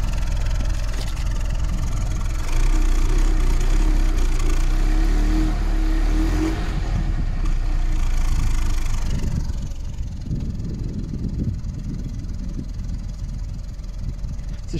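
A cold two-cylinder car engine idles steadily at close range, then revs up briefly before dropping back to a rougher, quieter idle.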